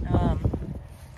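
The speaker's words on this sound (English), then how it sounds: "Sorry about the wind." Low, rumbling wind buffeting the microphone while metal detecting in an Ohio backyard, loud and gusty, with a voice briefly audible underneath.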